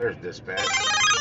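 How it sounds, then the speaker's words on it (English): A Super Mario Bros notification jingle plays from a phone app, bright and loud, right after a short spoken phrase and continuing to the end. "that was the Super Mario Brothers sound."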